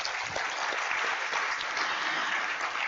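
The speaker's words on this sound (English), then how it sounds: "So I think that deserves another round of applause." An audience at a hospital collaboration signing ceremony breaks into steady, even applause, a full and continuous wash of clapping with no voices over it.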